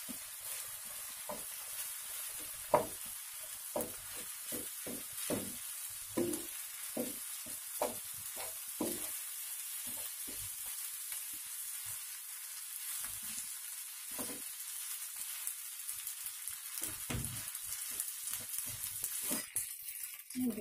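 Rice with noni leaves and ground spice paste stir-frying in a pan for nasi goreng, a soft steady sizzle with repeated scrape-and-toss bursts from stirring, close and alone with no talk.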